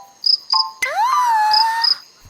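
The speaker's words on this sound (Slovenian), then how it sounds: "Jaz sem ravno iskal črička." Cricket chirping in a Slovenian cartoon: short, high, bright chirps come first, then a swooping, sustained whistle-like tone with more chirps over it, all close and clear.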